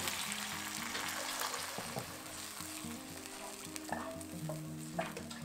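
Shrimp cooking for Singapore sauce sizzles steadily in a pan while water is added and stirred in. The frying hiss is continuous and close, with scraping and stirring knocks throughout.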